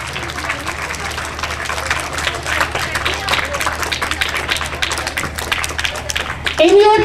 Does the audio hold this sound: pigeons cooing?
no